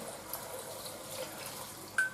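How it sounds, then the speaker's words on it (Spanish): Water poured into a pressure cooker of spinach and potatoes, a steady close-up splashing stream running alone for about two seconds, with a brief sharper splash near the end. "pues le vamos a echar agua"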